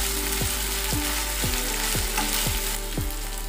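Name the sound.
frying onion pieces, curry leaves and ginger paste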